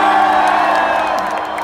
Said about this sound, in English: If you had a good time, make some noise.